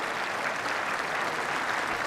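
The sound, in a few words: sympathy cheer and applause from lawn bowls crowd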